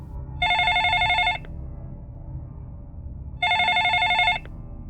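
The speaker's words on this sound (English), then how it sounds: "With trembling hands, Sarah answered the phone" An old-fashioned telephone rings in two separate bursts about three seconds apart, each a bright, buzzing bell trill lasting about a second, clear and alone against quiet background.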